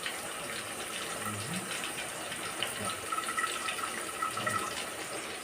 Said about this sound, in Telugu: ఇప్పుడు చింతపండు పులుసు పోస్తున్నాను.